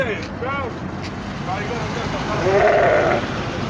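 Goats bleat in the busy Aziziya goat market, several wavering cries rising over a steady background of chatter and voices.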